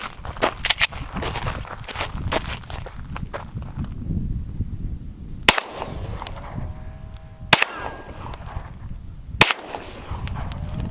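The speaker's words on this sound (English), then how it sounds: "Let me shoot it with the 9 millimeter." A 9 mm pistol fired at an anvil outdoors: three sharp, loud cracks spaced a couple of seconds apart, each with a brief metallic ring, following a stretch of shuffling footsteps and handling noise.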